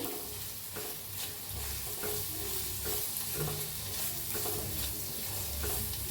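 Green chilli pickle mixture with salt and sugar being stirred in a pan, a steady scraping and soft sizzling texture that runs continuously at close range with no voices.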